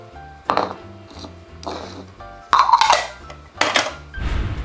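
A hard unbreakable plastic rice or soup bowl is set down and handled, giving a few distinct knocks and light clinks, close by and quiet.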